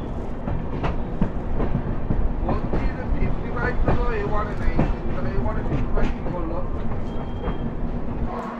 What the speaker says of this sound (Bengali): আমাদের ট্রেন দুন এক্সপ্রেস এখন এসে পৌঁছালো দীনদয়াল উপাধ্যায় জাংশন স্টেশনের 4 নম্বর প্ল্যাটফর্মে